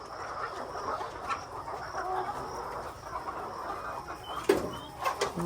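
Hens wander loose in a poultry farm shed, giving faint, scattered clucks and murmurs over a steady background hum of the building, with one brief sharper note near the end.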